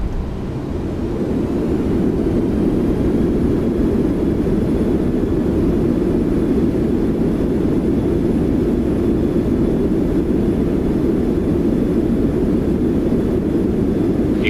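Steady loud roar of a Boeing 737-800 rolling out on the runway under braking in X-Plane, a constant broadband rumble of engine and wheel noise without pause.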